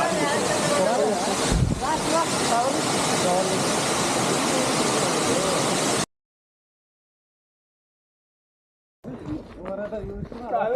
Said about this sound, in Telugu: పైనుంచి వాటర్ ఫాల్స్ అయితే పడుతుంటాయి, ఈ నుంచి ఇట్లా నుంచి కిందికి అయితే పోతున్నాయి.